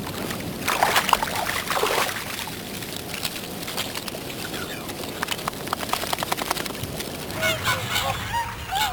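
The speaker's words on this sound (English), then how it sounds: "Swans on the flood. To me, the definitive sight and sound of winter." Wild swans call with honking, bugling notes over a flooded winter wetland, a scattered flock heard at middle distance with repeated overlapping calls against a steady outdoor background.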